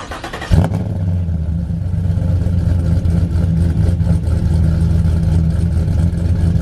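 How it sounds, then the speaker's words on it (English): Modded 6.2L truck engine cold starting on a morning: a sharp crank and catch, then a loud, deep, steady idle rumble that holds for several seconds, close and alone. "let's start this up and see what it sounds like on a cold start"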